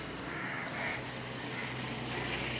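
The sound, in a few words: crows cawing in the morning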